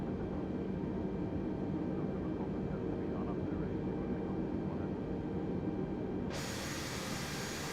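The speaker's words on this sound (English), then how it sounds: "we have a stable start on both engines" The airliner's engines run steadily just after a stable start on both engines in Microsoft Flight Simulator 2020, giving a continuous roaring hum and hiss. A brighter hiss rises abruptly near the end.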